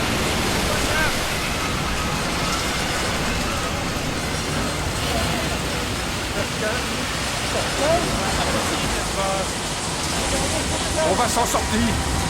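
Strong sea waves in a storm make a loud, continuous wash of surf and rushing water that holds steady throughout, with faint voices here and there beneath the roar.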